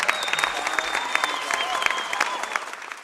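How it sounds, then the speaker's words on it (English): A volleyball fieldhouse crowd applauds a coach, dense clapping with some cheering mixed in, fairly close and lively, tapering slightly toward the end. "Ladies and gentlemen, please a big round of applause for who we think is a future Hall of Famer"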